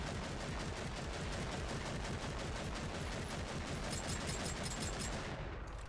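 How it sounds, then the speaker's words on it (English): Sustained full-auto gunfire from a Space Marine's weapon in Warhammer 40K: Eternal Crusade, a dense unbroken stream of rapid shots at steady loudness for about six seconds, with no voices. "If you hold it down full automatic, this happens."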